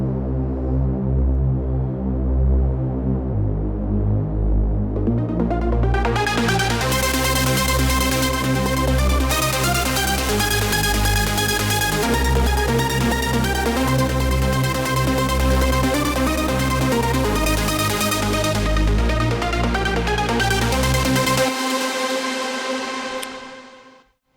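A trance melody processed through the Noveltech Character plugin plays as a loud, dense synth line over a steady bass pulse, brightening and filling out after a few seconds before stopping abruptly near the end.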